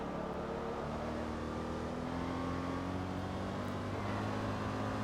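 A V8 car engine on stock exhaust in the Forza Motorsport 2 racing game, held at a steady, droning hum for the whole stretch, with no talk over it.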